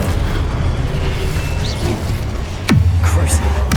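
An Incendio fire spell in Hogwarts Legacy erupts as a loud explosive boom amid ongoing combat noise, followed by a sharp descending sweep and a sustained low rumble as the flames take hold.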